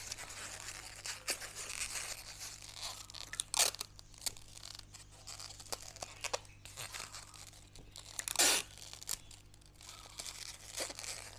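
Packing tape and wrapping material handled while sealing a package of fish for shipping by post, giving quiet, irregular crinkling and rustling with a couple of sharper tearing rips.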